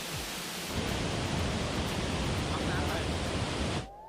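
Water rushes steadily over a limestone waterfall with emerald-green water in Laos, a continuous broadband roar that swells up close and then cuts off abruptly near the end.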